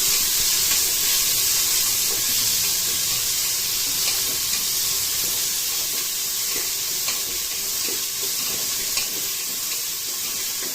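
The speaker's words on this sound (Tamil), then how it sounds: "அது நல்லா பொரிஞ்சு வந்ததும் பூண்டு ஆட் பண்ணிடலாம்." Garlic sautés in a hot pan of oil for a mixed vegetable gravy, giving a loud, continuous sizzle and hiss that runs unbroken throughout with no one talking.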